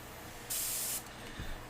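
An airbrush gives one half-second burst of steady spray hiss, close and fairly loud, followed by a faint bump.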